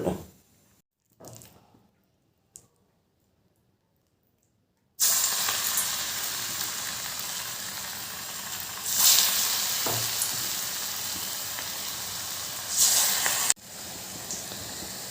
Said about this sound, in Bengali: তেলটা গরম হয়ে গেছে এবার এই মিশ্রণ থেকে নিয়ে তেলে ছেড়ে